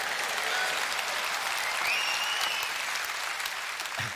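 Steady applause from a party conference audience fills the whole stretch, dense and even, with a faint whistle rising briefly partway through.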